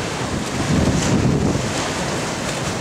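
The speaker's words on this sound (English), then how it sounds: "There's the water feeding into the blowhole, going under the rock, and then it's under rock, and then it comes out of the rock right here." Sea water surges and churns into a rocky blowhole at Hook Head on the Wexford coast, a steady close roar of frothing surf swelling briefly in the middle, with wind buffeting the microphone throughout.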